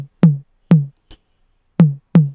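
A thumb percussion sample in an FL Studio beat sounds as four dry, punchy, low hits in an uneven pattern, with a tiny click between them and silence around each.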